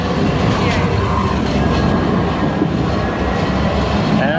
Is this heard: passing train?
yes